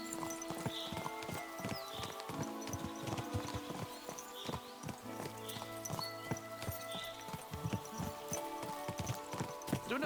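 Horse hooves clip-clop steadily in a medieval setting in Kingdom Come: Deliverance II, a repeating walking rhythm over low ambient hum and scattered game sounds, with an occasional faint whinny.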